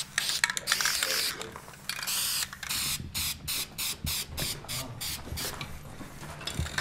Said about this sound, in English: So just using a normal spray can without the different tips